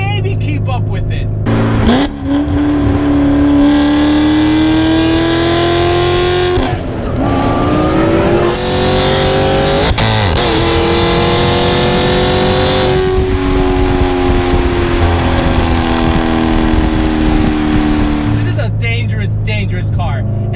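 A Chevrolet C7 Corvette Z06 supercar engine pulling hard on a racetrack, loud and close with a rising whine through the gears, brief dips at shifts and a steady roar throughout, with a driver talking over it.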